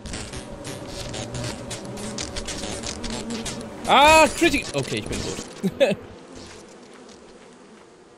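Insect buzzing from a swarm of bees in the video game Lethal Company runs steadily under excited talk, with a louder burst of game sounds near the middle.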